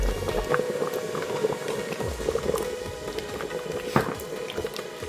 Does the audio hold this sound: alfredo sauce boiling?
yes